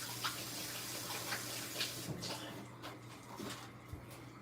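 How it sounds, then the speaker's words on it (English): Tap water runs and splashes softly into a sink as hands are rinsed under it, a quiet, steady wash with small splashy bursts and no talking. "let me rinse my hands real quick"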